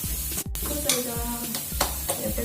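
Spices, fried potatoes and paneer sizzle in a hot pan as they're stirred, giving soft hissing with a few sharp scraping strokes, close and fairly quiet.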